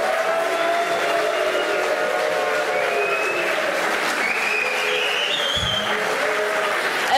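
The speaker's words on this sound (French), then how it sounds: "Vous pouvez applaudir." Sustained audience applause fills a hall at a French political campaign speech, steady and dense throughout with a faint voice briefly audible over it.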